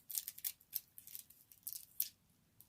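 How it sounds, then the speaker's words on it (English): Small scissors snip away excess nail art foil in a quick run of light, crisp cuts, close and quiet, with no talk. "I'm going to cut off the excess with my scissors"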